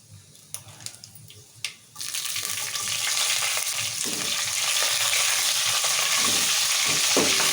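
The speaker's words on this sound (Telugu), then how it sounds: "ఇక తాలింపు గింజలు ఎర్రగా అవుతున్నాయి కదా పచ్చిమిరపకాయలు వేసుకున్నాం ఇప్పుడు" Green chillies drop into hot oil with mustard seeds and fenugreek for a dal tempering. After a few light taps, a loud, steady sizzle rises and holds for several seconds.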